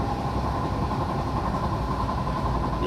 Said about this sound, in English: Sorry, it's shaking, but the train's shaking. So we're going pretty fast now.